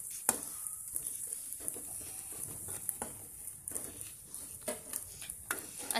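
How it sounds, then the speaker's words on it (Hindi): Finely chopped onion frying in oil in a kadai, a soft continuous sizzle with scattered crackles and occasional stirring scrapes, close and fairly quiet, with no talking. "इसमें डालेंगे एक बारीक कटा हुआ प्याज और इसको अच्छी तरीके से भून लेते हैं।"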